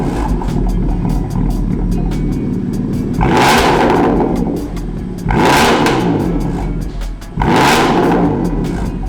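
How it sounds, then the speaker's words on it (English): A BMW F80 M3 with a factory M4 GTS exhaust fires up and barks through three loud, close revs, each settling back to a deep, steady idle rumble. "I have factory M4 GTS exhaust on this thing, and it sounds insane."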